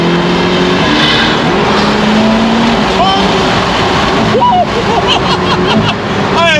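A car accelerating hard while being driven, loud close engine roar with rising and shifting pitch throughout, strong brakes, with a voice exclaiming over the engine noise.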